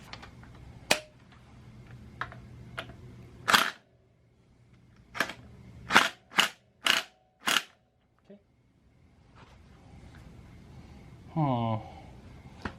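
Impact gun fastening a Light Bee QS165 motor during installation: a series of short, sharp mechanical bursts, several loud ones clustered midway, separated by quiet gaps, with brief speech near the end.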